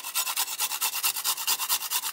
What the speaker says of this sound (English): going to grate some ginger